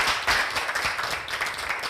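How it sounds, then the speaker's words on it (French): Audience clapping at the close of a French talk show on cyberbullying, a dense, steady patter of hands filling the short stretch with no voice over it. "On applaudit très fort."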